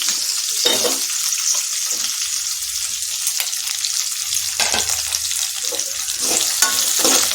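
Onion sizzles and fries in a pan for an okra and potato fry, a loud, steady close-up hiss with occasional stirring scrapes and no voices.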